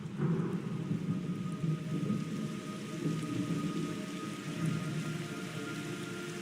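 Steady rain patters down while low thunder rumbles in the distance, continuous and fairly quiet, with no voices.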